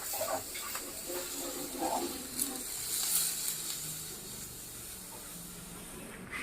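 Onion sautés in oil in a restored, once-rusty iron pan, a faint continuous sizzle and hiss with occasional soft pops, quiet and close.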